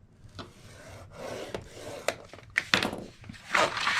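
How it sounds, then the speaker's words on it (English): A paper flap being scored in a paper trimmer: several short, dry scraping strokes up close, growing a little louder toward the end, with no talking. "I'm going to go ahead and place it back in my trimmer, and we're going to score this flap at 2 1/4 inches"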